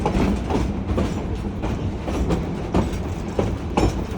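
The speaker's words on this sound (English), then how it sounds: "you can see our locomotive as we head through a curve" A Shay geared steam locomotive hauling cars on the Yosemite Mountain Sugar Pine Railroad through a curve, with loud rumbling, rhythmic clickety-clack from wheels on rail joints and occasional faint wheel squeal, heard close from aboard the train.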